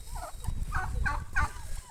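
Several turkeys gobble in quick, bubbling bursts, one call after another, close by with a low rumble underneath.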